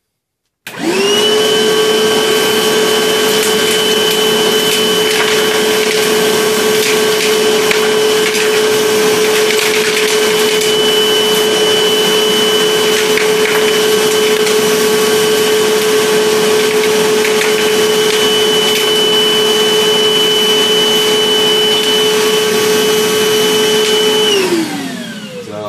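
A Milwaukee 18V cordless shop vac switches on and runs at a loud, steady whine for about twenty-four seconds, with an occasional rattle of debris being sucked up, before winding down.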